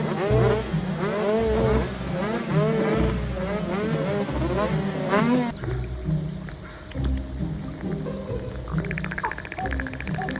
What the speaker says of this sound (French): Ces Lamborghini ont des moteurs vraiment puissants.